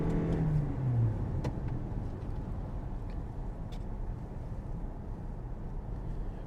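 A 2025 Toyota Camry XSE AWD accelerating in normal mode, its engine note rising steadily under loud broadband road and wind roar from inside the cabin.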